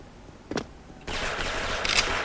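Gunfire from a suppressed white camo AK74 in a shooter video game, a brief muffled shot followed by a sustained burst of rapid, dense firing and clatter, fairly quiet overall.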